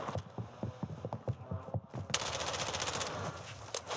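Rapid bursts of SO14 rifle fire in the Warzone video game at Vondel Park, sharp repeated shots in quick volleys followed by a denser stretch of gunfire and mechanical clatter, loud and close.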